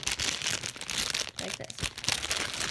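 A plastic bag from a squishy toy package crinkles close up, with continuous rustling and crackling handling noise and no talk.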